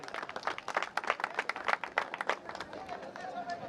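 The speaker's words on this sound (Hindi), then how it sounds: "बैकग्राउंड साउंड में जो व्यवस्था की, वो मनोज के लिए भी जोरदार तालियां।" An audience at the closing ceremony of a community sports competition claps in quick, irregular bursts, fairly close, with crowd murmur beneath, before the applause tapers off.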